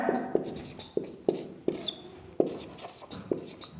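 Chalk or marker strokes on a board during a history lesson on the Chauhan dynasty, heard as a series of short, sharp taps and scrapes in an irregular rhythm, close and fairly quiet, with no talking.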